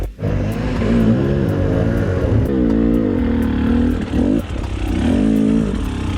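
An enduro motorcycle on tubed tyres climbs through wet sections of a Romanian trail, its engine loud and close, revving up and down in rising and falling surges with a clattering edge and no talking over it.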